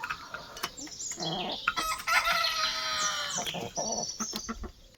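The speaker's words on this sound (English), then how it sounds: "she's just sat there in the roosting box yelling" A hen squawks and clucks loudly and insistently from a roosting box, a run of harsh, repeated cries up close with short gaps between bursts.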